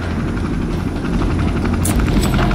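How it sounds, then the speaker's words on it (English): A helicopter hovers directly overhead in the video game Resident Evil 3, its rotor making a loud, steady, close droning roar with no talk. "There's literally a helicopter right above us."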